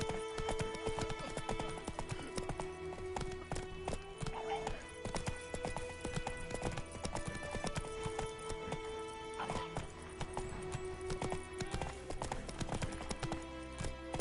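Roach, Geralt's horse in The Witcher 3 on PlayStation 5, gallops with a continuous rapid clatter of hooves that stays steady and fairly close. A neigh breaks in partway through.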